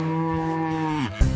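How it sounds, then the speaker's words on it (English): A farm cow gives a single long, loud moo with a steady pitch that bends downward at the end, followed by a short low thump. "The cow says moo."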